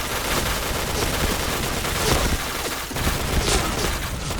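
Video game gunfire with heavy weapon recoil, a dense continuous crackle of rapid shots and bursts. It is loud and close and fills the whole stretch, with no talking.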